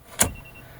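The steering lock emulator in a Mercedes ignition sounds from its small built-in speaker as the key is inserted, a single short, sharp electronic click-tone followed by quiet cabin hum.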